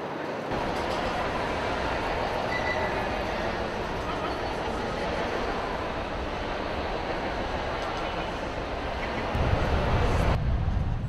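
A New York subway train rumbles steadily and loudly throughout, a dense continuous roar of wheels and car noise with a deeper surge of low rumble near the end.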